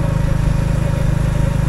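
An Orion moped engine running close and loud, a steady throbbing idle with an even rapid pulse and no voices over it.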